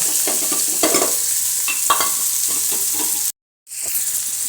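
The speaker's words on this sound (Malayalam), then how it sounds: "നമുക്ക് പിന്നെ നല്ലോണം ഒന്ന് വഴറ്റി എടുക്കാം" Chopped carrot, beetroot, ginger, green chili and onion sauté in a pan, with a steady close sizzle and scraping stir strokes, cut off by a brief silent gap near the end before the frying resumes.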